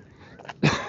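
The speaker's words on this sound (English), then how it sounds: "There's a cough." A single short cough rises out of a quiet outdoor background on a bench in Central Park, fairly close and brief near the end.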